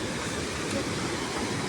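Water at a dam rushes steadily into a tunnel, a dense broadband roar that stays loud and unbroken throughout with no voices, like heavy churning flow heard close by.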